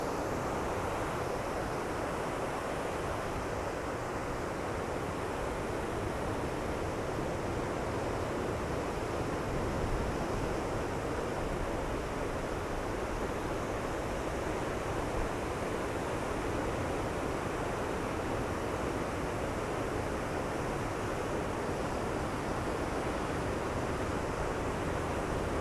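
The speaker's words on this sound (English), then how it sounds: "hopefully you can hear the ocean roar for a while." Continuous roar of ocean surf breaking on a San Francisco shore, a dense steady wash with wind noise, no voices.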